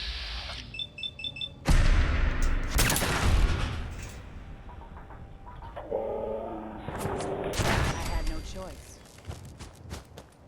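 Heavy artillery fire in Fallout 4, with a Mr. Gutsy robot nearby: loud booming bursts, one strong blast near the start and another later, over a busy game soundscape with a voice talking.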